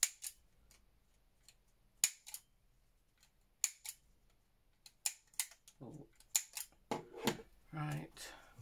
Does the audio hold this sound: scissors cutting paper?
yes